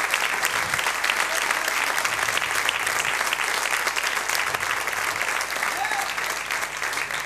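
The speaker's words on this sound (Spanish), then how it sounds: "Deme un buen aplauso" A church congregation gives a loud, sustained round of applause during a Spanish-language sermon, dense and even throughout with a few voices and cheers blended in.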